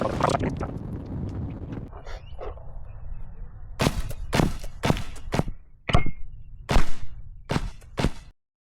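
Paintballs striking an Insta360 premium lens at close range give several sharp, loud impact cracks in quick succession after a stretch of wind and handling noise.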